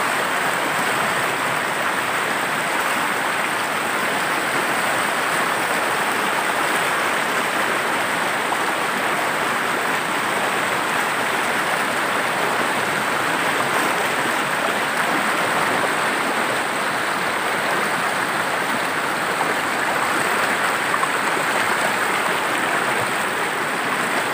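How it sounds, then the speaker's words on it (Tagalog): Loud, steady roar of rushing water, a constant broadband wash with no pauses, close and powerful throughout. "Sobrang lakas ng tubig."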